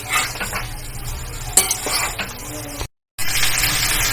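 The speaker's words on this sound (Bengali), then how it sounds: "আবার চাপা দিয়ে দিয়ে এইভাবে নেড়ে নেড়ে এই রান্নাটা করতে হয়" Shredded cabbage is stirred and pressed in a pan, with scraping spatula strokes and metallic clinks over a low sizzle, close by, and a brief dropout near the end.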